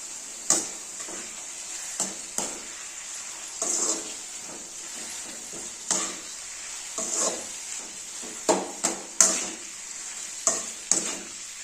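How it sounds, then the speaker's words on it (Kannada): Carrots and beans fry in a pan with a steady, close hiss of sizzling oil, broken by frequent scraping and clatter as a spoon stirs the vegetables. "ಸ್ವಲ್ಪ ಫ್ರೈ ಆಗಲಿ"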